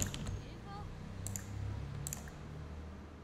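Mouse clicks while playing The Sims, a few faint, sharp ticks spaced about a second apart over a low, steady backdrop of game sound.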